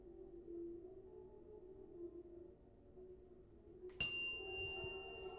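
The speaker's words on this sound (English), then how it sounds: "Ring the bell." A single bright hotel desk bell dings once in an FMV horror game, its ringing tone sustaining and fading after a quiet stretch of low room ambience.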